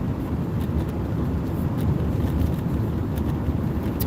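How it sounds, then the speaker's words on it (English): Steady interior rumble of a car driving through town, a continuous low road and engine drone with faint wind noise, close and even throughout with no talking. "Just driving through town now."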